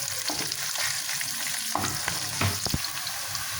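Onions frying lightly in a pan for a chicken masala curry, a steady close sizzle with occasional stirring scrapes and soft clinks, no voices.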